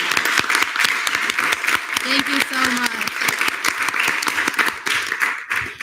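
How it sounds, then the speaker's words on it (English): Student government senate members give a round of applause, dense close clapping throughout, while a voice speaks briefly over it. "So I wanted to give a round of applause."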